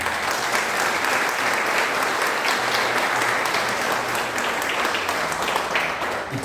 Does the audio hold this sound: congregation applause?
yes